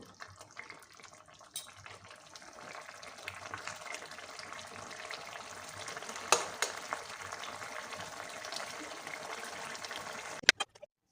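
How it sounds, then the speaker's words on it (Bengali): Khoira fish curry with potato and eggplant simmering in a pan, a steady soft bubbling sizzle that thickens slightly toward the end, with a couple of sharp clinks near the close. "একটু ফুটতে দেবো"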